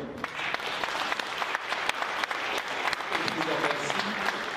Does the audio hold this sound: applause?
yes